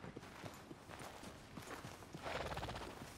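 Horse hooves clip-clop at a steady walking pace in Red Dead Redemption 2, a fairly faint, even rhythm under a rustling, busy background that swells toward the end.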